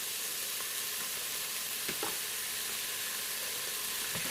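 Food browning in the nonstick pot of an Aicok electric programmable multicooker gives a steady, even sizzle, with a few soft scrapes and knocks as it is turned, heard alone and up close.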